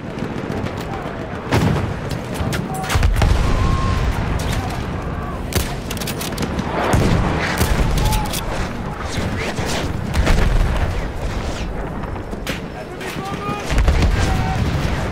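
Sustained bursts of machine gun fire and scattered explosions in a World War I Battlefield 1 multiplayer match, loud and close, with a voice calling out in the middle of the battle noise.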